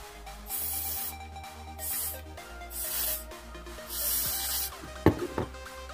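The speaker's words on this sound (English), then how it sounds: "And just keep spraying it." Four hissing bursts of cleaner from a spray bottle onto a fidget spinner in a steady rhythm, each lasting about half a second, followed by a faint clatter.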